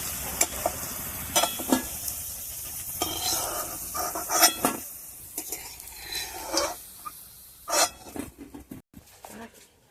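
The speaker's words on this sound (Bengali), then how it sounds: "বেসনে ডুবিয়ে আর ভেজে নেবো" Oil sizzles as gram-flour-battered fritters fry, under scattered clinks and stirring scrapes of a utensil against a pan, moderately close, with faint background voices.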